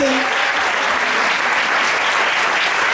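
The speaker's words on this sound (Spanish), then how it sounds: "un fuerte aplauso para las mujeres" A lecture audience at a business presentation bursts into steady, dense applause, loud and close, filling the whole stretch with a continuous wash of clapping and a short vocal tone at the start.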